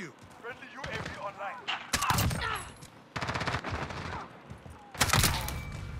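Bursts of rapid automatic AK-47 fire in a video game, in several short volleys, sharp and loud, with faint talk in between.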